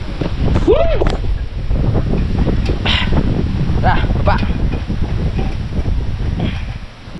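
Strong wind roars and buffets the microphone continuously, with faint voices and rustling beneath the loud gusty noise.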